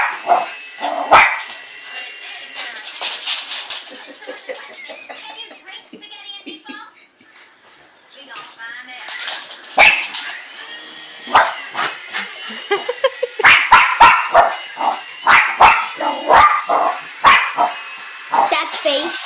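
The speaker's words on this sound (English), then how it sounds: "she is barking at a helicopter" A dog barks at a passing helicopter in sharp, close bursts of barks and yips. They come in scattered clusters with a quieter lull partway through, and a voice is briefly mixed in.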